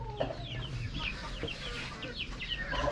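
Small chickens cluck and cheep repeatedly nearby, a soft continuous chorus of short calls with no talking.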